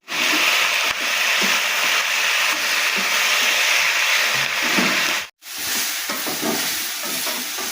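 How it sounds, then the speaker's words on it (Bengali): Onions sizzle steadily in a hot pan, a loud continuous hiss broken by a brief pause, with scraping stirs throughout. "পেঁয়াজগুলিটা আমার ভাজা ভাজা হয়ে এসছে আর একটু সামান্য নাড়াচাড়া করে আমি নামিয়ে দেবো"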